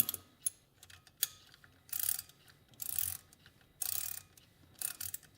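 Piston wrist pin puller being tightened on its threads, giving a run of close, dry ratcheting clicks in short bursts with brief pauses between strokes, no talking.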